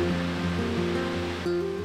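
Steady broadband rush of water at Fortescue Falls, the spring-fed waterfall in Karijini National Park, Western Australia, heard close and continuous, with a low droning tone running underneath.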